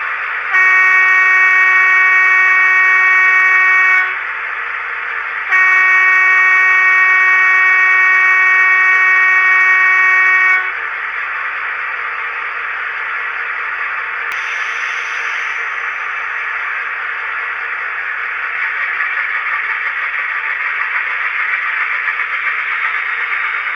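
A model locomotive pulling a long wagon train sounds a loud two-part horn blast, pausing briefly between the tones, then carries on with a steady running hum and rattle.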